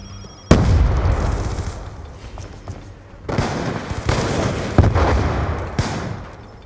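Grenade blasts in a Black Ops II team deathmatch on the Slums map on Xbox 360: a loud, close boom, then several more explosions rolling out at uneven intervals with rumbling tails.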